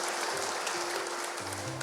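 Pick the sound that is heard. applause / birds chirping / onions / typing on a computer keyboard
applause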